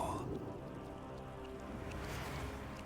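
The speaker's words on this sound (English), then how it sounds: "Until the retroact rain began to fall." Steady rain pours in the Wuthering Waves video game as the retroact rain begins to fall, a continuous close hiss of drops with a low rumbling bed beneath, holding even throughout.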